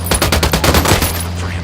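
A fast, steady stream of automatic gunfire in the video game Ghost Recon Wildlands, loud and close. The shots come in a rapid, even rhythm with no pauses.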